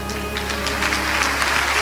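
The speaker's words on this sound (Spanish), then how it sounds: "Si ese aplauso es para el Señor, déselo fuerte, hermano." Applause from a congregation during a church service, a steady dense wash of clapping that fills the short moment without any talking.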